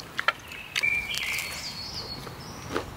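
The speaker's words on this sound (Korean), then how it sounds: "새소리와 함께한 아침 식사" Faint, high bird chirps and a few short calls sound from a distance over a quiet background hiss, at a forest campsite in the morning.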